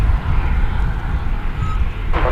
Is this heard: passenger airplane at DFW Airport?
yes